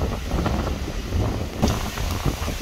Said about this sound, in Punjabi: ਹੁਣ ਝੱਖੜ ਆਈ ਗਿਆ।